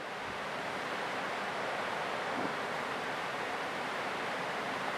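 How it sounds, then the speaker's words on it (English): Steady, roaring wind at about 25 mph blowing strongly across the microphone during a storm off Cape Hatteras, a continuous broadband rush with no break and no voices. "I'll let you hear the wind for a second"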